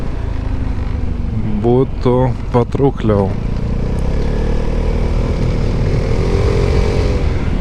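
A Vespa 300 GTS scooter fitted with an Akrapovič exhaust, ridden on quiet suburban roads; its engine drones steadily and close, rising in pitch toward the end, with someone talking over the first part.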